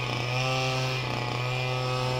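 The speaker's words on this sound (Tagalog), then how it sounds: "Grass cutter ng barangay yan eh." The barangay's motorized grass cutter runs outside nearby with a steady, buzzing engine drone like a small two-stroke motor. It holds a constant pitch throughout with a slight dip midway.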